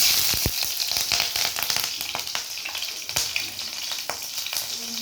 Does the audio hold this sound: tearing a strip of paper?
no